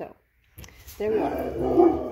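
Dog barking indoors nearby, starting partway through as a loud sustained burst of barks and yips right after a man's brief words.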